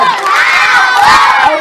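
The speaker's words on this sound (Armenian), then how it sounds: "բոլորս միասին բարձր ծափերով մեկս մյուսից ասենք շնորհ" A crowd of children at a June 1 celebration shout together in a loud, sustained burst with cheering voices rising and falling, close and continuous throughout.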